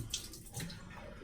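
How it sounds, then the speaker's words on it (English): Hot water runs and splashes while rinsing out a puck of Spitfire shaving soap, a continuous close hiss of flowing water at low level with no speech. "Put a little hot water on it."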